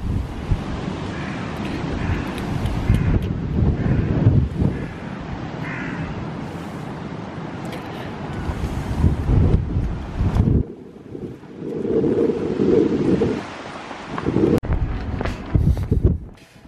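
Strong gale-force wind buffets an outdoor microphone in Bristol, roaring and gusting loudly with blustery rumbles that briefly ease before surging again.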